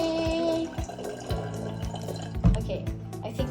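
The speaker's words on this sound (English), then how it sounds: "first, you will add a third of water to the cup." Water pours into a cup for a craft project, a steady close liquid trickle with a few knocks and clinks of handling over it.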